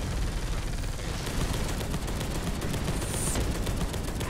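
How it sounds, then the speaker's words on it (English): Dense, continuous gunfire from a co-op video game set in a war against the Xenos, with rapid bursts and overlapping shots filling the whole stretch at a steady, loud level. "well, I can hear the machine gun too."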